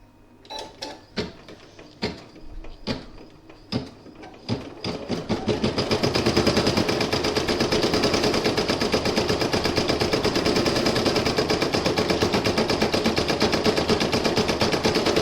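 A computerized embroidery machine stitching out lettering on a Halloween coaster: a few separate needle bursts at first, then a steady, loud, fast mechanical chatter of needle strikes that continues without pause.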